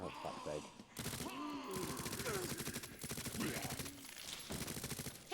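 Video game gunfire: rapid, sustained machine-gun-style shots rattle continuously under a busy mix of game sounds and a voice talking over it.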